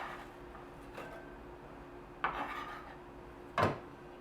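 Potatoes being sliced by hand into quarter-inch rounds for a salted codfish stew, heard as two short, distinct cutting strikes against a quiet kitchen background.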